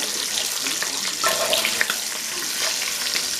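Sausage browns in a pot of hot grease with a loud, constant sizzle, punctuated by a few sharp spatters and utensil clinks as it is stirred.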